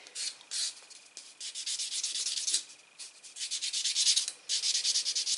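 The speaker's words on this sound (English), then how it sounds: "just buff over the surface of the nail plate just to close up the small scratches from the" A block buffer is rubbed over the surface of a nail, making close, soft rhythmic scratchy strokes in quick repeated bursts with short pauses between passes, heard alone without talk.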